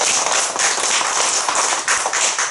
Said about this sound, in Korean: 박수 좀 쳐라.